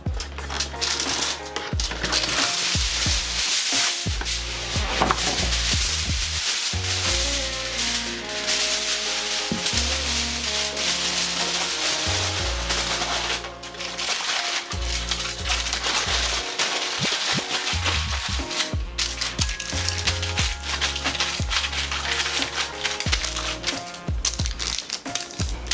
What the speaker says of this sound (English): I'm gonna take a huge piece of foil and wrap it around my head